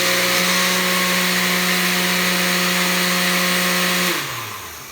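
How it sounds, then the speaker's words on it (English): A blender whirs loudly and steadily, whipping a Thai salad dressing of ginger, garlic, pepper and Dijon mustard until smooth, then spins down and cuts off near the end. "you want to make sure that you blend this until it's completely smooth so you don't have any chunks of ginger or garlic or pepper"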